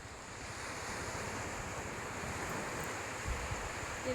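Sea waves wash onto a beach in monsoon weather, a steady loud broadband surf roar pushed by gusting wind that rumbles across the microphone, with no voices throughout.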